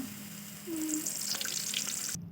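Eggs dropped into hot oil in a home kitchen pan, a steady soft sizzle with hissy crackle running throughout, moderately close and alone without talk.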